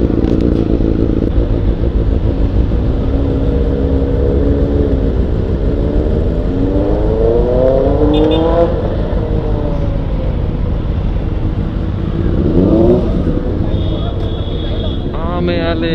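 Benelli TRK502X motorcycle engine running steadily, loud and close, with rising and falling revs during a ride between Mumbai and Lonavala, mixed with wind noise and people talking over it.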